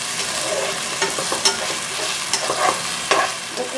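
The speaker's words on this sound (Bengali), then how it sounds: "একটুখানি নুন দিয়ে ভালো করে এটাকে নাড়িয়ে দিতে হবে।" Masala pasta sizzles in a frying pan while a spatula stirs it, giving steady frying crackle with repeated scraping strokes and clinks against the pan, close and clear with no talking.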